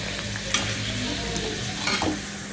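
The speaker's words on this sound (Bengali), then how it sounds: "ভেজে নিয়ে একদম ফুলকো ফুলকো লুচি রাত্রের ডিনারে।" Whole wheat flour luchi fry in hot oil with a steady, loud sizzle and crackle. Two brief clinks of a utensil are heard early and near the end, with no speech.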